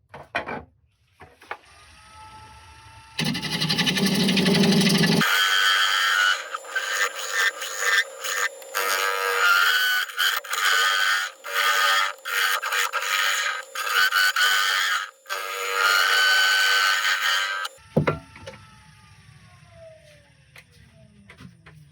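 Woodturning on a lathe as a gouge hollows the concave underside of a wooden mushroom head: long stretches of loud, close, gritty cutting and rasping in bursts, with the lathe's lighter hum between cuts and a quieter spin-down at the end.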